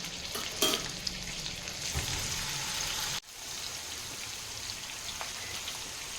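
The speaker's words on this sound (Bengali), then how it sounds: "আমি বাটারটা গরম করে নিয়েছি। এবার চিকেনগুলো আমি অ্যাড করে দিচ্ছি।" Marinated chicken pieces frying in hot butter for butter chicken tikka, a loud steady sizzle with spattering pops and a brief stir, dropping slightly after a moment.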